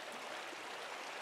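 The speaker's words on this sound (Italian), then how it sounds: "La cascata è sempre meravigliosa." A steady, even rush of falling water from a waterfall in a forest in the video game Pentiment, constant throughout with no talking.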